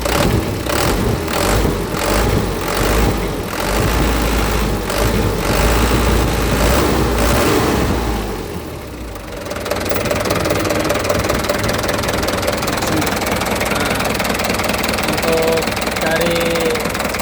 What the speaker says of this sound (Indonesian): ini saya akan mereview suara mesinnya Canter Super Speed tahun